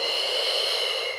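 A person takes a single long, audible breath through the nose during a beginner Pilates spine mobility exercise, close and steady, fading out at the end.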